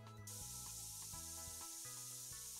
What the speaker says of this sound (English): someone needs some spraying